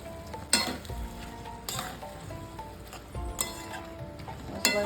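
Banana flower and prawns sizzle in a pan with spices as a spatula scrapes and stirs them, giving sharp clanks at regular intervals over a low, continuous frying hiss.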